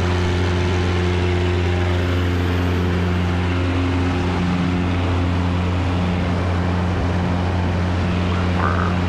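Steady, droning engine of a Cessna Cardinal 177 RG single-engine propeller plane during its take-off run, a constant loud hum with strong tonal harmonics and no talk.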